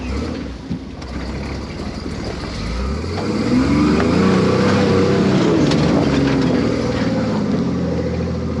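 A 4x4 rock crawler rig with new shocks grinding over rocks: a steady engine drone that climbs in pitch and loudness as the rig pushes ahead, with low rumbling throughout, no talk.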